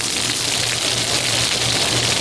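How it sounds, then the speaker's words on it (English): A sudden burst of rain pours down before noon in Carpinteria, a steady broadband hiss of falling water that holds at an even, fairly loud level throughout with no voices. "Few people expected this burst of rain before noon in Carpinteria."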